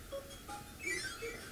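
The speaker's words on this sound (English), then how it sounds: "Is that your health making that damn noise?" Low-health warning beeps from Kirby's Adventure on the NES repeat as short, faint electronic tones in an uneven pattern, quiet and with no talk over them.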